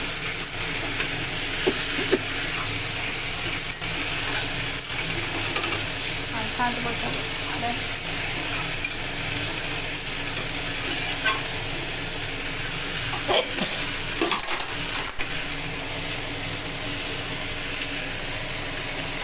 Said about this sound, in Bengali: তরকারিটা ভেজে দেবো